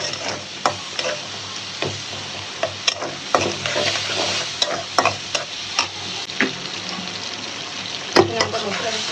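Onions frying in oil in a home kitchen, a steady broadband sizzle with frequent sharp scraping knocks of a spoon stirring against the pan, close and fairly loud throughout.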